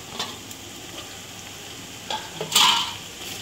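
Onions and green chillies frying in a pot while being stirred, giving a steady close sizzle with a few scraping stirs, the loudest stir near the end; no talking.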